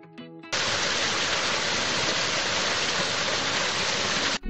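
A river water sound effect comes in abruptly after a brief tone, then holds as a loud, steady, broadband rush of flowing water before cutting off sharply.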